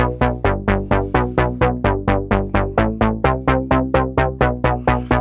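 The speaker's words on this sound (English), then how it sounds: "start with the bass that sounds like this" Synthesizer bass line recreating a sound, made with DRC, a steady pulsing run of even, punchy notes with quick decays repeating in a regular rhythm, loud and alone.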